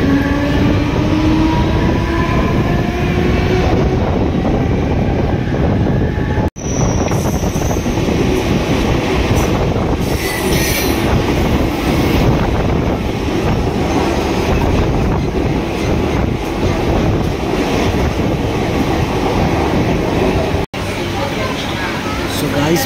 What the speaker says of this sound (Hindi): मैं हूँ ट्रेन के अंदर और जा रहा हूँ वापस